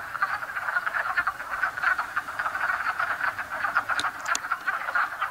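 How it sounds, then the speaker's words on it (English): A chorus of wood frogs croaks in dense, rapid overlapping clucks, fairly faint and distant, rolling on steadily through the whole stretch with a couple of sharper calls near the end. "we're still listening to the wood frogs"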